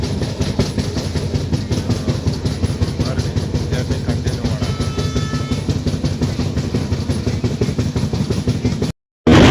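A train runs steadily with a loud, continuous rumble and rhythmic rattling of the carriages, heard from inside, then cuts off abruptly near the end.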